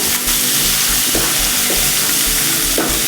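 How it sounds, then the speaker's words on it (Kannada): Chopped onions fry loudly in a pan for a lentil and okra curry, a dense constant sizzle with a few soft stirring knocks, no voices. "ಈರುಳ್ಳಿನ ಸ್ವಲ್ಪ ಚೆನ್ನಾಗಿ ಫ್ರೈ ಮಾಡ್ಕೋಬೇಕು"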